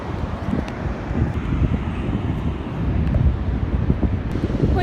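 Strong gusting wind buffets the microphone on a beach at Praia de Odeceixe, a loud rumbling roar that swells and eases steadily throughout, with no voices.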